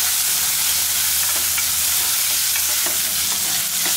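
Small onions and tomatoes fry in a pan for a chana masala gravy, a steady loud sizzle with soft scraping and stirring scrapes of a spoon, no talking.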